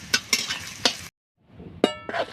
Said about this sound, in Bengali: এখন আমি এর ভিতরে ডালের বড়ি দিয়ে দিচ্ছি।